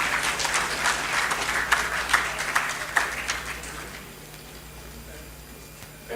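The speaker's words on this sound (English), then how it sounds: "can we give him a resounding round of applause?" Applause rings out from an audience at a patriotic event after a consulting firm's chief executive is introduced, dense clapping for about four seconds before fading to a quiet room with low hum.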